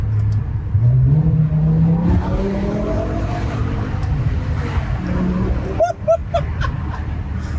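A BMW engine runs steadily and loudly, rising in pitch as it revs and accelerates, with wind rushing over it and a few short whining squeaks near the end.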